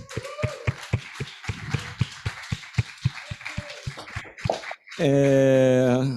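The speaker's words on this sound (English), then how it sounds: "The Students Committee, please, a big round of applause." Sparse applause from a small audience at an academic conference, a thin run of distinct, loosely spaced claps, then a sudden sustained tonal sound cuts in at the end.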